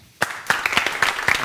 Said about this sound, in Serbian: Aplauz da ti vratim.